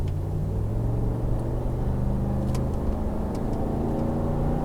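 RAM Mega Cab pickup truck with a suspected transmission issue accelerating through its gears, a steady mid-loud engine rumble with drivetrain hum heard from inside the cab, no talk.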